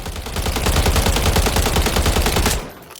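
An AK-ALFA rifle in Call of Duty Modern Warfare III fires one long full-auto burst, rapid and evenly paced, loud and close, cutting off sharply near the end with no talk over it.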